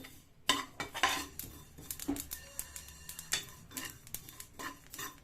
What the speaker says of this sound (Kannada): ನಾವು ಈಗ ಸ್ವಲ್ಪ ಬಿಳಿ ಎಳ್ಳನ್ನು ಫ್ರೈ ಮಾಡ್ಕೊತೀನಿ